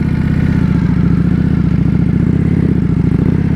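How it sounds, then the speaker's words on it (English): A motorcycle exhaust roars loud and close while riding at night, a steady low rumbling drone with fine rapid pulsing that holds throughout. "this exhaust, as much as I badmouthed it before, is really growing on me"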